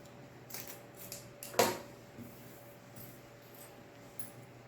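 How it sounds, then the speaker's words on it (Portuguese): Scissors snip the ends off a zipper, one sharp close cut standing out among a few fainter light clicks in an otherwise quiet room. "Vou cortar as pontinhas do zíper."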